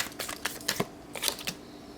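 Tarot cards are shuffled close by in a quick series of crisp riffling clicks and snaps, with a short pause in the middle and no voice over them.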